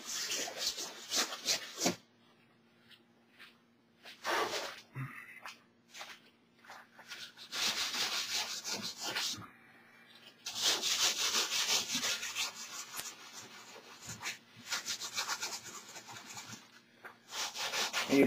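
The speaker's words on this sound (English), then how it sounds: "take a little 150 grit and sand the top layer off" A wing panel's top layer is sanded with 150 grit sandpaper, close rasping strokes in long bursts separated by short quiet gaps.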